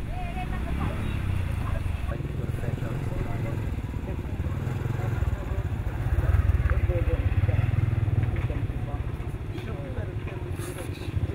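A motorbike engine drones and clatters along a road on Paluweh volcano island in Indonesia, a road wrecked by lahar debris. The engine is steady and close, and someone talks over it for most of the time.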